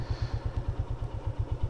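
Motorcycle engine on a black-ice road in Neelum Valley in winter, a steady rapid low thumping pulse that sounds close and continuous with no talking.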